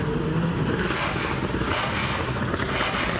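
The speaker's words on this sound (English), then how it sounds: "You can hear the revs on the start line" A rally car on the start line of a forest rally stage at Goodwood revs hard in a dense, continuous roar, loud and close, with no talk heard.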